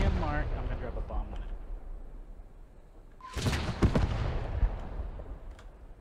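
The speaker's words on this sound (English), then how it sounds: "I'm gonna drop a bomb." A bomb detonating in the WWII shooter Post Scriptum: a loud, broadband blast about halfway through, followed by scattered rumbling impacts and crackle, with battlefield voices talking over the start.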